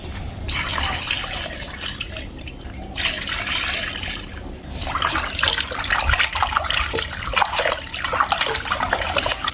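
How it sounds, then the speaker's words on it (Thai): Cleaned white pomfret gets rinsed in water, with continuous splashing, dripping and pouring close by and rising in the second half, unbroken and with no speech. "อย่าลืมนะครับ ปลาทำเสร็จแล้วล้างน้ำให้สะอาดสักสองสามน้ำ"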